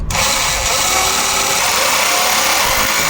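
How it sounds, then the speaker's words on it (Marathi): Concrete drill bit fitted to a machine running loud and steady against a wall during door-frame fitting, a continuous high whine starting abruptly and holding without pause. "कॉन्क्रीट ड्रिल पहिला मशीनला लावून घेतलं"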